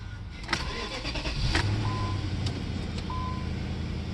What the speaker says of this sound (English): So I'm going to start the vehicle.